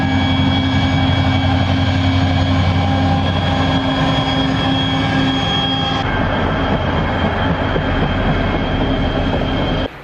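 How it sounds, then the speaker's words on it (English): An excursion train on a Skagway rail line passes close by, a loud, continuous rolling rumble with steady tonal hum that shifts partway through and cuts off abruptly at the end. "here comes the 12:30 train actually going up on the excursion"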